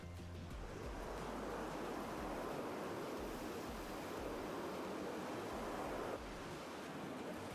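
Rushing whitewater of the Omega Rapid on a river at high water during a rafting trip, a loud steady broadband roar throughout with wind buffeting the microphone and no speech.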